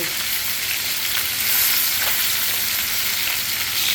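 Koi fish (climbing perch) sizzles steadily in hot oil, a continuous loud crackling hiss with no voices.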